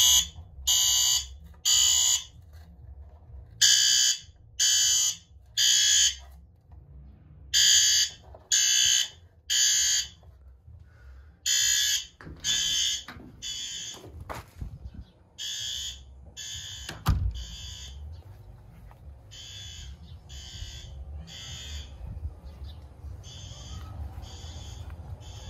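Fire alarm sounding inside a new shed building, a loud pulsing electronic tone in regular bursts that turn choppier and overlap partway through, then settle into a steady, slightly irregular pulse with a low rumble underneath.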